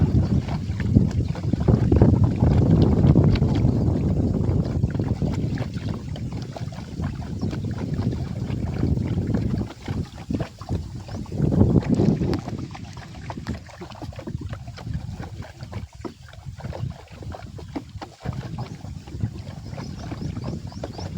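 A boat moving on water, with steady rushing water and wind buffeting the microphone throughout, loud and continuous.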